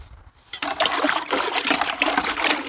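Water sloshes and splashes as a quarter cup of white vinegar is stirred into two gallons of water, a steady close swishing that starts after a brief quiet moment.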